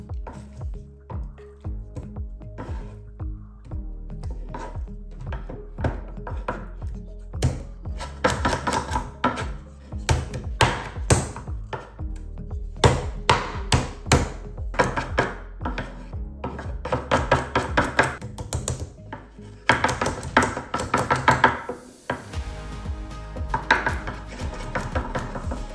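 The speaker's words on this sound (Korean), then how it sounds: "자, 이제 버터를 패줍시다." Butter is beaten and slapped to squeeze out its water, giving irregular wet thumps and knocks that grow busier and louder, with faint background music.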